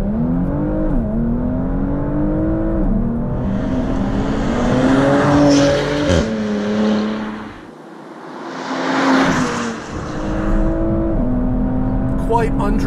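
A 2020 Porsche Macan Turbo, roughly 4,200 pounds, launching from 5,000 RPM in Sport Plus, its engine loud and close, climbing through several gear shifts with brief dips between pulls, while someone talks over it.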